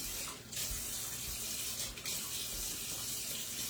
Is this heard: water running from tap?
yes